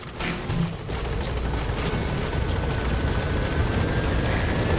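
Pequod, the helicopter in Metal Gear Solid V: The Phantom Pain, arriving at a landing zone, a steady loud rotor drone with a mechanical whir, constant and close, no voices.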